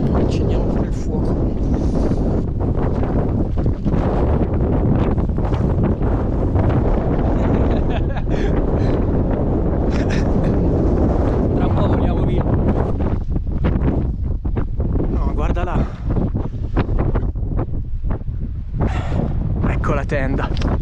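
Strong wind on a mountain top buffets the microphone in loud, continuous roaring gusts, with a voice partly audible beneath the blustering noise.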